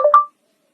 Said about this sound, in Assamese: মই এতিয়া বেলেগ এটা মোবাইলৰ পৰা ফোন কৰি আছো।